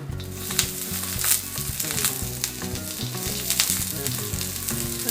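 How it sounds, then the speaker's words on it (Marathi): Onion browning on a tava gives a dense, steady sizzle with occasional stirring scrapes, close and fairly loud throughout, with no talking over it. "तर आता हा कांदा चांगला ब्राऊन कलरवर भाजून घ्यायचा आहे"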